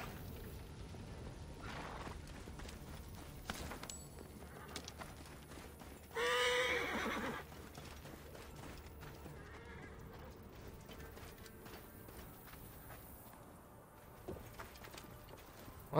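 A horse whinnies once in Assassin's Creed Origins, a short bright call standing out over steady game ambience and soft hoof clatter.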